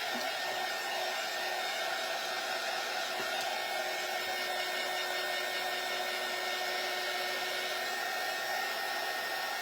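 Hair dryer blowing on painted laser-cut wood pieces from a farmhouse Christmas tree craft kit, a continuous close whooshing whine at steady loudness, uninterrupted and with no talking.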